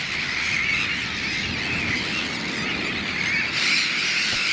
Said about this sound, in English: The sandwich terns, like the spoonbills, form bird colonies, and they like to get pretty close.